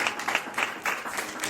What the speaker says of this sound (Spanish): Dale un aplauso grande a Cristo en esta tarde.